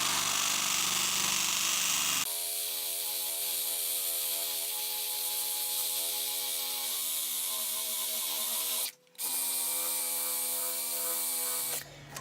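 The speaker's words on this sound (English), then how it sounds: "I choose to do this with the Makita drill, because it just makes life a bit easier" A steady Makita electric drill whine with a sanding hum as it sands an axe head, running continuously up close with a brief stop near the end before resuming.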